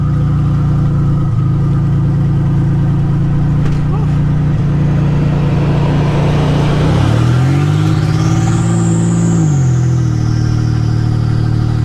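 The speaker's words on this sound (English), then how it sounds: "The turbo sounds really cool too with no exhaust on it." A loud turbocharged Nissan Z31 300ZX Turbo engine with no exhaust drones steadily at close range, then revs up as a rising turbo whistle climbs and holds over the rumble.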